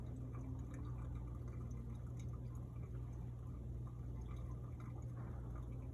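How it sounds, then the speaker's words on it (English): A thin, steady stream of water pours without a break over coffee grounds in a Hario V60 pour-over, under a low hum, soft and close, with faint gurgling and no talking. "And I'm going to slowly pour"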